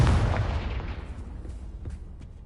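A Confringo blasting spell explodes in Hogwarts Legacy, a deep booming blast at the start that rumbles and decays over about two seconds, with small crackling debris pops in the tail.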